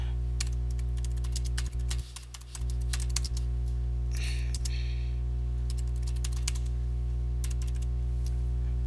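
Computer keyboard typing, a run of light, quick clicks at an uneven pace over a constant low electrical hum.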